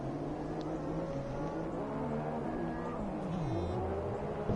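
A GP2 race car at the 2016 Australian GP slides round into the pit lane, its engine note droning and shifting in pitch, steady and fairly close, with no talk over it.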